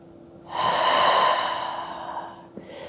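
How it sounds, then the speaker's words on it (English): A yoga instructor takes one long, audible breath, a close, airy exhale that swells quickly and then fades over a couple of seconds. "And breathe."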